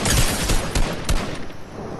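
Gunfire in the video game Fortnite, a dense rattle of rapid shots with a few sharper cracks standing out, fairly loud and continuous for about two seconds with no talk.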